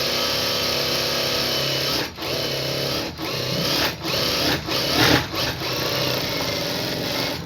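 A sewing machine stitches the lining of a blouse in fast, buzzing runs, stopping briefly several times between bursts, close and clear with no talking.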